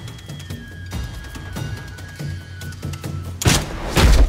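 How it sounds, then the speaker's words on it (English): Heavy darts from a medieval multibow crossbow strike wooden boards, several dull thuds and knocks scattered over a low hum, ending in two loud close impacts. "The projectile strikes with impressive force."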